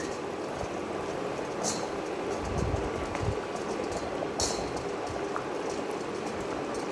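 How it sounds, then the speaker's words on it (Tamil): A pot of egg gravy bubbles and simmers steadily, a soft continuous boiling hiss with occasional pops. "ஒரு அஞ்சு நிமிஷம் கொதிக்க விட்டு இறக்கி வச்சிங்கன்னா"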